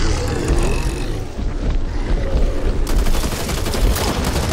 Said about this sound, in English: Watch where you shoot, man!